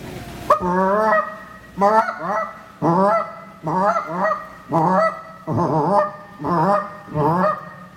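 A person imitates a Canada goose, giving a series of about eight loud, close honking calls in a steady rhythm, each a nasal two-part honk with short pauses between them.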